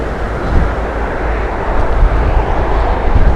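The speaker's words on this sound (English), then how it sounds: "Okay, Eurowings, this is the aircraft that went around earlier." A Eurowings airliner arriving at Heathrow Airport after an earlier go-around produces a loud, steady low engine roar with broadband rushing noise, close and unbroken, with some wind buffeting.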